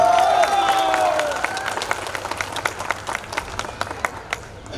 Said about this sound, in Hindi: प्लीज जोरदार ताली हो जाए मनोज भाई के लिए।